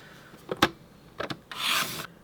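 Cardstock for a scrapbook is cut nearby: a few short dry scraping strokes, then a longer smooth rasping slide of the blade through the card, quiet and close, with no voices.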